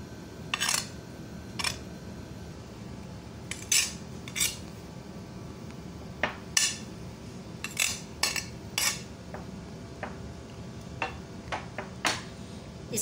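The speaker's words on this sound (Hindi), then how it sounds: "अब हम इसमें डालेंगे अपने चावल" A metal spoon scrapes and clinks against a bowl as rice is added, making a series of scattered sharp taps over quiet room background.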